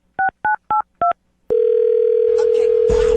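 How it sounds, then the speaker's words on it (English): Four short, evenly spaced touch-tone beeps from a telephone being dialed, then a loud, steady dial tone that continues while faint voices start up behind it. "I'll dial her phone number right now, get her on the phone"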